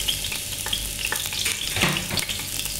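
Chopped onion sizzles in a small splash of hot oil for a stingray curry, a steady close frying hiss with light stirring scrapes and no voices.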